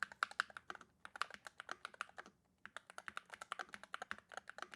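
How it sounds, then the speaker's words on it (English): Fast, steady typing on an LED-backlit keyboard bought cheaply online, set on a bare desk without a mat, a close crisp clatter of keystrokes with one brief pause midway. "But look, feel, sound on this keyboard, especially since we don't have it on any kind of desk mat."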